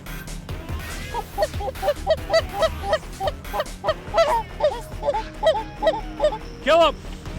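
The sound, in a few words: flock of waterfowl calling while flying in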